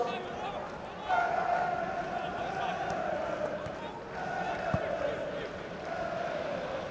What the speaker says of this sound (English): those at the ground will now join in a minute's applause